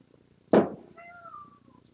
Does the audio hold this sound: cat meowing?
yes